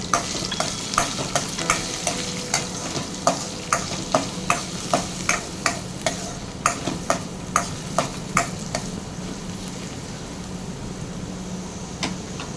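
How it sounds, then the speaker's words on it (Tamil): Chopped large onions sizzle in hot oil while a utensil scrapes the pan in quick regular strokes, then the stirring stops and the frying hiss continues. "பொடிசை நறுக்கிற பெரிய வெங்காயத்தையும் சேர்த்து நல்லா வதக்கி விட்டுக்கலாம்"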